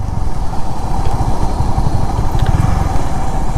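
A motorcycle engine drones steadily and loudly on a winding hill road near Cox's Bazar, a continuous close rumble with no pauses.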